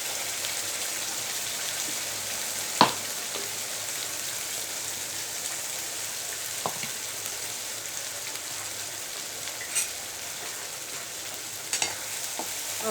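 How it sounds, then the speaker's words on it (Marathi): Salted eggplant sautés in oil in a pan, giving a long, even, hissing sizzle up close. Occasional sharp taps and scrapes of a spoon stir through it, with no talking. "हे फक्त मिठामध्ये वांगे तेलामध्ये छान परतून घेतलेले"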